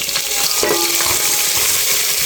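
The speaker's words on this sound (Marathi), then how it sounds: "कांदा मिरची मस्त परतला." Chopped onion and chili sauté in a pan with a loud, steady frying hiss, broken by a few soft stirring clinks and scrapes, close by and with no speech.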